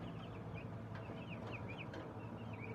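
Turkeys in a shed calling with faint, repeated chirping yelps over a constant low fan hum, distant and quiet.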